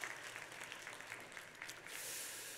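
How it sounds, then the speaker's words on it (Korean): Brief applause from a church congregation during a Sunday worship service at Pyeongtaek Full Gospel Church, dense clapping at moderate volume fading into a hissy wash near the end, with no talk over it. "우리 하나님께 영광의 박수를 올리겠습니다"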